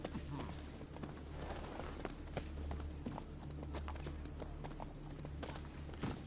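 Rapid, rhythmic hoofbeats from Geralt's horse Roach galloping in The Witcher 3, steady clip-clop pounding with game music and a voice over it.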